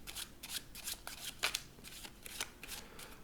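Spectator shuffling the lower half of a deck of playing cards during a card trick: a run of quick, crisp riffling flutters, close and moderately quiet, with no talking.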